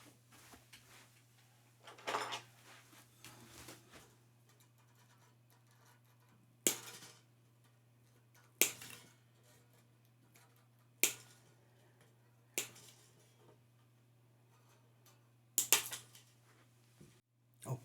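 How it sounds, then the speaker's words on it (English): Guitar strings on a Gibson SG being snipped one by one with cutters, five or six sharp isolated snaps spaced a couple of seconds apart against a quiet room hum. "So that's it, I can cut my strings off now."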